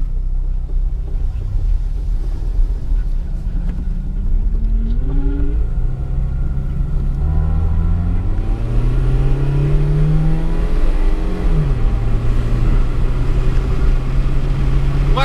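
A car with brake fluid in its gas tank idles, then revs and pulls away, its engine rumbling low and rising through several rev sweeps and gear changes, close and fairly loud throughout.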